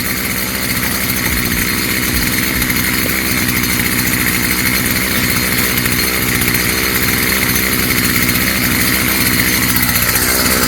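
A STIHL FS55 string trimmer's two-stroke engine runs on choke with the air cleaner removed, a loud, steady, buzzing idle holding without pause throughout, with no talk over it.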